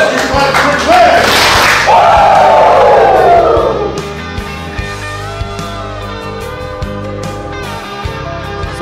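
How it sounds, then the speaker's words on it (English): At a Glacier Peak high school football game in 2019, the crowd cheers and yells loudly in a broad roar for a few seconds, then settles back beneath steady background music. "Let's get your clap for Clay."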